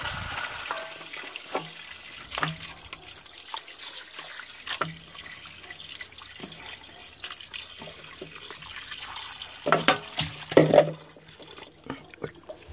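Tap water runs and splashes in a sink while raw chicken wings are rinsed, a soft continuous trickle broken by scattered knocks and louder splashes.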